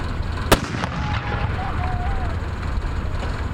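One sharp, loud black-powder shot from a 37mm anti-tank gun cracks out early, followed by a fainter report, over steady outdoor noise and crowd murmur at a museum demonstration.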